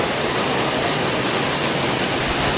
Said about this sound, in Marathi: बघा पाणी किती जोरान आले